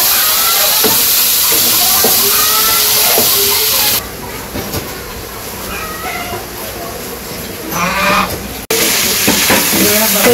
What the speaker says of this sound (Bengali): সবজিগুলো ভালো করে কষিয়ে নেই।